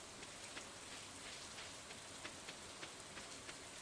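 Steady rain falling in the farming video game Stardew Valley, a soft even hiss with faint scattered droplet ticks, quiet and continuous with no voices.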